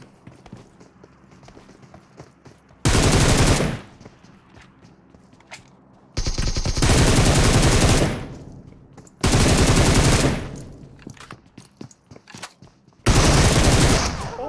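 Video game gunfire in four loud bursts of rapid automatic shots, each lasting about a second or two and separated by quieter stretches of footsteps and game ambience.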